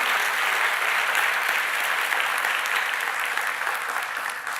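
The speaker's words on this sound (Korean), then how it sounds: "우리 다시 한번 큰 박수 해주시고요" A church congregation claps loudly and continuously in a dense, even wash of applause that fades slightly toward the end.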